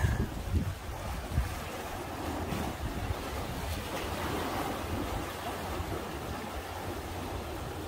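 High waves at a crowded seaside fishing spot in Cheongho-dong, a steady low rumble of surf mixed with wind buffeting the microphone, a few thumps early on, then an even wash with no voices.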